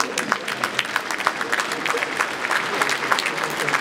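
An audience at a concert marking the 80th anniversary of Penza Oblast claps continuously, with bright, crowded hand claps in a steady roar and a faint voice underneath.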